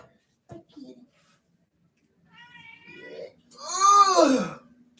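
A pet cat meows close by, a short call followed by a louder, drawn-out rising-and-falling meow near the end, with a brief human vocal sound before it.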